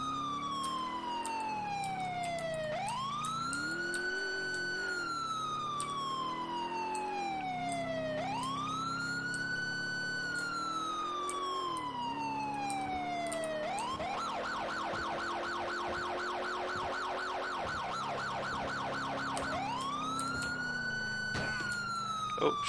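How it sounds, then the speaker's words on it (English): A police car siren in the LCPDFR game wails in rising and falling sweeps, switches to a rapid yelp, then returns to the wail, steady and fairly quiet over faint engine noise. "Fucking lights and sirens there, buddy."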